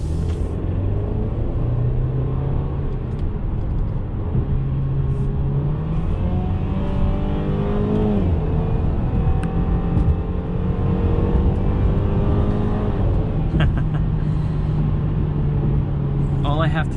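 A 2021 Mercedes-Benz C300 with the AMG package drives and accelerates, its engine a steady low rumble with rising and falling revs heard from inside the cabin under someone talking.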